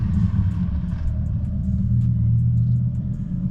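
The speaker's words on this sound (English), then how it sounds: "Dodge Viper just drove by." A Dodge Viper passing on a nearby road gives a low rumbling engine drone that holds steady at moderate loudness for a few seconds, with no voices.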